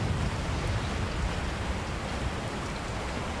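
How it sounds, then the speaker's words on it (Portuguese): Steady rain pours in the VR video game Resident Evil 4, a dense, even hiss of drops on surfaces filling the whole stretch with no voices. "Chove no jogo, chove na cidade."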